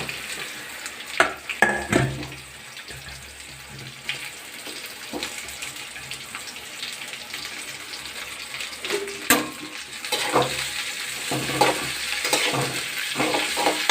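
Chopped okra (lady's finger) sizzles and fries in a pan of tempering oil, with a steady crackling hiss broken by scraping stirs of the spoon throughout.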